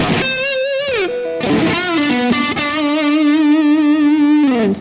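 Distorted electric guitar playing sustained notes with bends and a wide wobbling vibrato, loud and unaccompanied, with short slides between pitches.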